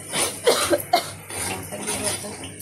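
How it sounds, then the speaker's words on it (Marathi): A person coughing from spicy masala fumes while cooking egg curry, a few short close coughs and throat clearing mixed with brief talk, with kitchen noise in the background. "हा खोकला येतोय"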